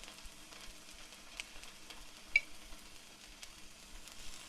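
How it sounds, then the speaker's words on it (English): A quiet, steady sizzle of chicken frying on a hot griddle, with faint crackles and one brief louder pop partway through, and no talking. "when I put this down, you want to hear a sizzle"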